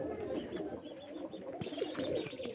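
Racing pigeons in a loft in Beldanga, West Bengal, giving soft, low coos that blend into a faint continuous murmur over about three seconds, with no talking.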